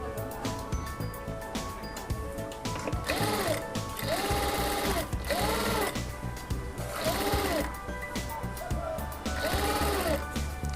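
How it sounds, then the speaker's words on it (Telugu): A sewing machine stitching puff sleeves on a blouse, a fast steady mechanical whirr that runs in repeated bursts with brief pauses between them, close and clear. "చూడండి ఇప్పుడు నేను స్టిచ్చింగ్ కూడా చేసి చూపిస్తానండి మీకు."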